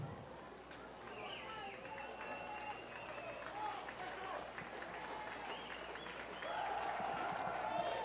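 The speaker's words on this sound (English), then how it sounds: "The fans getting up and cheering for their hometown team" Hometown baseball fans cheer at a Bridgeport Bluefish versus Sugar Land Skeeters game six, a broad crowd roar running under a commentator's voice and swelling louder near the end.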